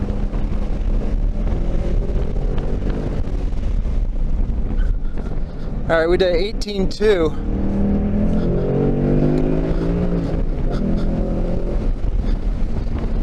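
A 2019 Mustang GT droning along a race track, steady engine and wind roar filling the whole stretch while someone talks over it, with a brief warbling whine in the middle.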